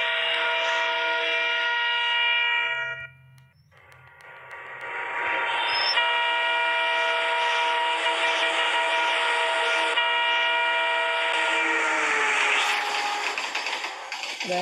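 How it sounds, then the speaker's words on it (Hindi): A train horn blares in long sustained tones over a rumbling engine, pauses briefly, then sounds again with rising intensity as the train draws near. "आते हुए ट्रेन की आवाज़ तो आ रही है"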